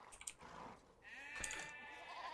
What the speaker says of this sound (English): So let's get those sheep back in there.